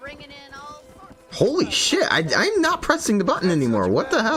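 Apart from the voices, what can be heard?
None of the usual background noises is heard.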